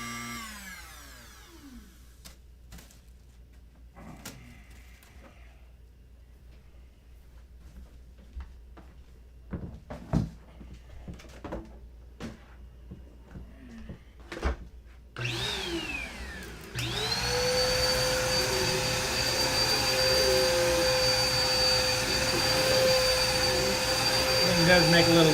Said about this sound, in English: I gotta run the vacuum for a minute